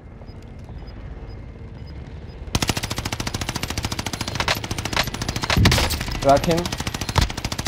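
Rapid automatic gunfire in the Warzone Pacific video game, a dense rattling burst that starts abruptly and continues loudly to the end, with other game sounds and players' voices talking over it.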